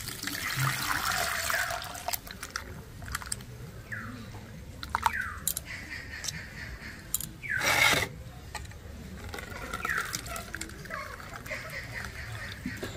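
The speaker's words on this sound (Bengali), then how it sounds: "এবার আমি জল পাল্টে পাল্টে 2-3 বার ভালো করে ধুয়ে নেব।" Grated raw potatoes being rinsed by hand in a bowl of water, with sloshing, rubbing and pouring sounds that swell into a louder splash partway through.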